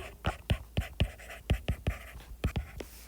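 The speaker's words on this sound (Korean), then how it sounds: "하타라고 써볼게요" A Japanese word is written on a board, giving about a dozen quick, crisp marker or chalk strokes in an uneven rhythm, close and clear.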